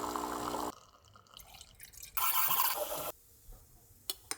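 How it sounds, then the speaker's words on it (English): Coffee is being made for a honey latte with caramel creamer, with liquid dripping and pouring in bursts, a loud rushing fill between quieter stretches and a few small clinks. "Anyways, let's go make a coffee."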